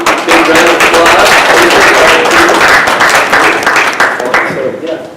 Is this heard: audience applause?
yes